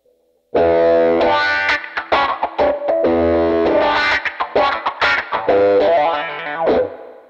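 A distorted electric guitar through an analog drive pedal plays a gritty, bluesy riff with crunchy overdriven chords and short note bursts, loud and close.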